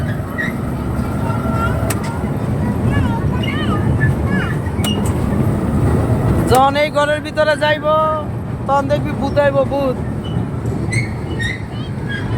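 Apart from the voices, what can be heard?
amusement park ride train moving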